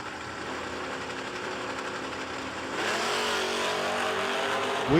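Drag race launch at a no-prep event between a 1966 Ford Falcon and a 1968 Chevy Nova: loud, sustained engine roar that jumps sharply in level partway through as the cars accelerate hard, with a rising whine at the end.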